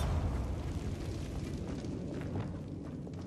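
Bombarda explosive spell from Hogwarts Legacy, a dense rumbling blast that stays loud and roaring for several seconds, with a low boom and crackling debris all the way through.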